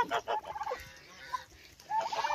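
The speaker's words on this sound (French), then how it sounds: "En même temps, vous voyez les dindons." Turkeys gobble in a few quick, rattling bursts close by, with short pauses between calls.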